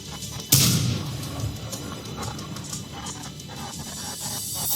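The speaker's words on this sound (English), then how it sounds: "And now we have the artillery." In a World of Tanks battle on the Pilsen map, a Sexton self-propelled artillery gun fires a single sharp, loud boom that decays into rumbling game ambience and distant battle noise.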